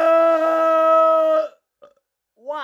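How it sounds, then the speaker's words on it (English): A long, loud, tonal burp after eating a hot chilli pod, sustained for about a second and a half, then a short faint sound and brief vocal noise after a pause. "that was a chilli burp"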